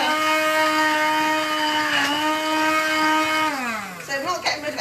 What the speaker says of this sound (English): You can use the other blender, the big blender.